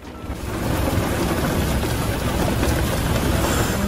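Steady, heavy rain pouring down, a dense continuous hiss and patter with no voices, filling the space evenly throughout.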